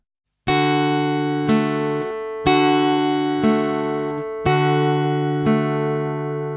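The First Noel is fingerpicked slowly on guitar in 3/4 time, clear single plucked notes about one per second, each ringing out fully before the next, close and solo with no voices.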